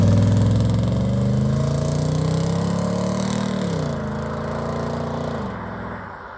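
A 16-year-old's first pickup truck, newly fitted with a hot rod exhaust, revs loud and close on a road test, its engine note climbing steadily, dipping, then holding before easing off near the end.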